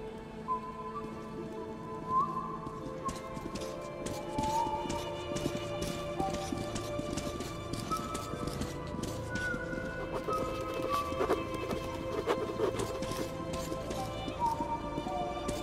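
Horses' hooves clopping steadily through rain in the video game Metro 2033 Redux, a dense continuous patter with faint tonal calls over it, fairly distant and even.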